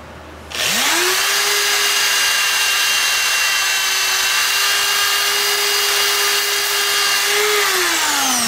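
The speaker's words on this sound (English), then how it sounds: "a good way to doing this is the drill press as well" A drill press whines steadily at a constant pitch after starting up, running continuously on wood, loud and close, then slowing slightly at the end.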